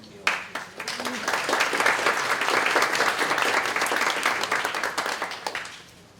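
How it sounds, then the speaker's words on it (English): Audience applause at a student government cabinet meeting: dense, steady clapping from a roomful of people, starting sharply, holding for about five seconds, then tapering off at the end. "Would you please applaud Michaela?"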